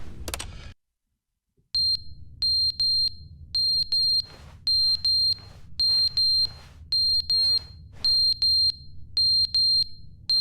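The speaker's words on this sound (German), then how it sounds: "Ach, der Rauchmelder will die Batterien gewechselt haben." Smoke detector chirping for a battery change in The Stanley Parable Ultra Deluxe: after a brief loud burst and silence, a rapid series of short, clean, high-pitched electronic beeps repeats in clusters over a low steady hum, no talking.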